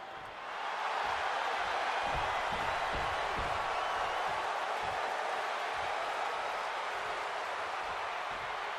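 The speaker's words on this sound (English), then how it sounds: "this capacity crowd just exploded" A capacity arena crowd in WWE 2K26 roars continuously for a CM Punk versus Seth Rollins match on Raw, a loud, steady wash of cheering that swells in within the first second and holds at full volume throughout.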